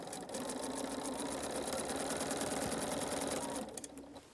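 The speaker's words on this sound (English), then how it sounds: "I do want to start stitching so that my seams are together" Sewing machine runs fast and continuously while stitching long fabric strips together, a close, steady mechanical whirr that stops near the end.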